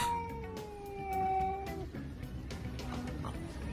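Cats yowl in long, drawn-out wails, one rising and falling over nearly two seconds, before the cries fade into noisy rustling and scuffling at moderate distance.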